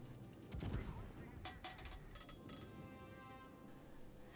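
USS Alaska battlecruiser main guns firing during a World of Warships naval battle, a heavy booming salvo followed by sharp crackling reports and a rumbling tail, moderately distant.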